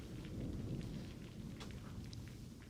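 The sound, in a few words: rain and thunder ambience in a tabletop RPG session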